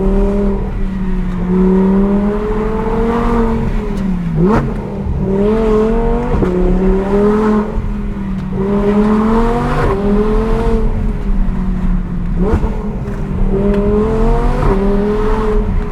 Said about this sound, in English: Let's enjoy some more sounds out of this insane V10 engine.